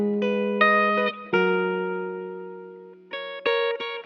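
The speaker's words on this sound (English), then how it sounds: "So this is how the guitar sounds by itself first." A bright, synthetic guitar-like melody of plucked notes: a quick run, one long sustained tone fading out, then a short burst of notes after a pause.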